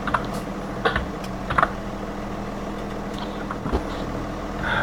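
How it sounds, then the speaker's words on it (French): A computer keyboard clicks in scattered, sharp bursts, with an occasional thump from a gaming steering wheel, over a constant low engine hum from a farm driving game. "je suis désolé si vous entendez des bruits de clavier là et de volant"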